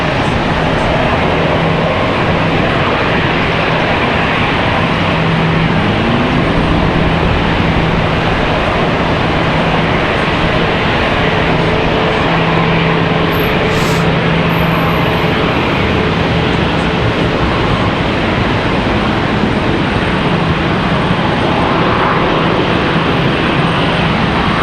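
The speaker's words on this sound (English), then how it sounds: "As American 1688 from Phoenix Sky Harbor comes across the taxiway in front of us." An American Airlines Airbus A321 in from Phoenix taxis across in front at Charlotte Douglas, making a loud, sustained engine whine and rumble with a steady low hum, close by and without voices.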